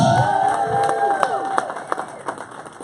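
Indoor training-event crowd cheers and whoops with scattered applause, a dense, lively roar of many voices close by, with a few louder shouts standing out.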